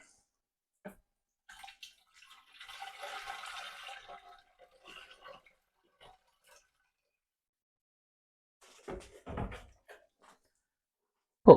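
Hot soapy water runs briefly from a tap into a jug, a short gurgling pour, followed by quiet clinks and a thud later.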